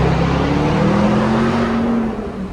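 A RAM 1500 TRX V8 Final Edition pickup with a Borla exhaust driving through a tunnel, a loud deep V8 rumble heard from inside the cabin with windows down, holding strong before easing off near the end.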